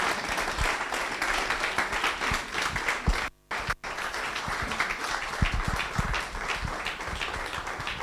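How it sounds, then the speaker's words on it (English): Hearty audience applause for a professor at a formal event, a thick, steady patter of many clapping hands with a few sharper close claps, briefly dipping to near silence midway before resuming at full strength. "Please, a big round of applause for Professor Shimbajo."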